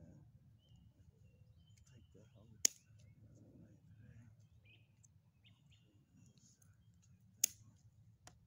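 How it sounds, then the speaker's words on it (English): Pruning snips cutting dead blueberry branches outdoors, two sharp isolated clicks several seconds apart over a quiet background with faint bird chirps. "Take my snips, go through, I'm gonna cut off all the dead I see."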